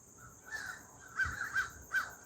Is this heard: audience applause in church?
no